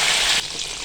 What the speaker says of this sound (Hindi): जितना हमें चाहिए था फिर हमने इसको फ्राई कर लिया।